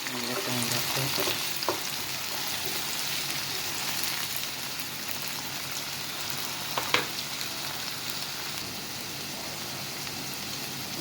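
Garlic sautéing in a pan for ginisang ampalaya with eggs gives a continuous, fairly quiet crackling sizzle, with occasional stirring scrapes throughout and no talking.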